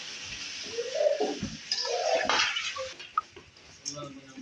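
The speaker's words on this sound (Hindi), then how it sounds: "अंदर पानी डाल रही हूँ।" Water splashes and pours into a metal pot of beef and tinda curry with ghee, with clinks of cookware and a brief rush of liquid, fairly close.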